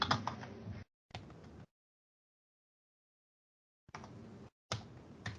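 Bursts of close, quiet computer keyboard typing while entering router configuration commands for a Cisco CCNA networking lab, separated by stretches of silence.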